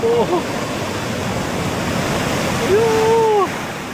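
Big ocean waves crash and roar steadily at Varkala beach in Kerala, a dense continuous surf close by, with brief voices calling out at the start and again near the end.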